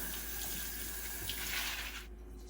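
Beans are rinsed under a running tap, and the water pours in a steady, close splashing stream that stops near the end, with no talking.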